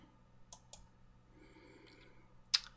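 Computer mouse clicks on a Windows 7 PC, a few faint isolated clicks spaced apart, with a sharper, louder click near the end.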